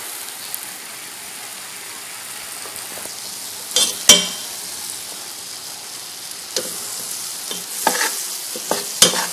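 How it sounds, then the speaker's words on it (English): A butter and flour roux being stirred slowly in a pan as it cooks down for a cream of spinach, giving a soft continuous sizzle with occasional sharp scrapes and clinks of the utensil, close and without talk. "And we can slowly stir it, let it cook down until it turns a real light brown color."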